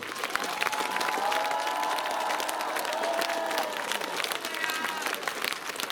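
A festival concert audience applauds in a steady, dense burst of clapping with crowd noise and some cheering, while a brief sung or whistled tone drifts underneath.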